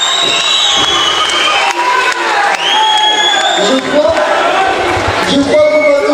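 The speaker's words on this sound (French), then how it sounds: "la foule est en hystérie pour cette victoire expéditive par arrêt d'arbitre" Crowd at a cage fight event erupting in wild cheering after a quick referee-stoppage victory, sustained loud roaring with high whoops and shouts, and a commentator talking over the noise.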